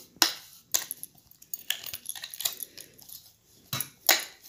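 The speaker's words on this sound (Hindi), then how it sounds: "चम्मच से निकालते हैं, सारा ऐसे ही निकाल लेंगे" A metal spoon scrapes and knocks against a pan while sesame laddu mixture is emptied out, giving a series of sharp clinks and scrapes at irregular intervals, close and fairly loud.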